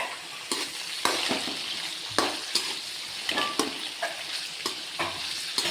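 Oil frying in a pan for a dried fish curry, a constant close hiss broken by regular scraping stirs of a spoon against the pan, with no voices.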